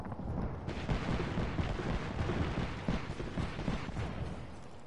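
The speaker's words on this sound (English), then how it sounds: "Knuckle clusters firing." Knuckle cluster ability going off in the video game Apex Legends, a dense continuous barrage of booming, crackling blasts that sustains loudly for the whole stretch.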